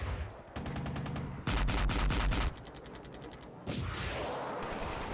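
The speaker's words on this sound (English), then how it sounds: "now it's time for the artillery to land" Artillery landing in the wargame Flashpoint Campaigns: Red Storm arrives as rapid, rattling rounds of impacts in dense bursts, fairly loud, with no talk.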